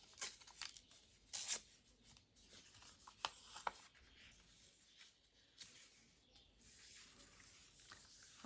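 Paper tearing during a crafting session with antique book pages and fabric, several quick dry rips in short bursts, fairly faint and close, with no talk.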